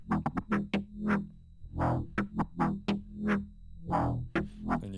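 Zebra synth patch with looped envelope modulation, a run of plucky percussive hits whose pulses speed up and slow down, alternating short clicks and longer swelling blips, dry and alone.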